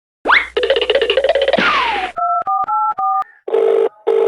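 Mobile phone being dialed and then ringing: a rising chirp and a buzzy burst, a quick run of keypad beeps, then a loud, close repeating ringback tone in two pulses, with no talking.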